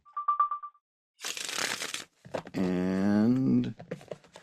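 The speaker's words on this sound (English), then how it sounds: "One more shuffle." Tarot cards shuffled in a brief broadband riffle burst after a short tonal beeping, followed by a voice speaking, moderately close.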